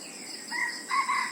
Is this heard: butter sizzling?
no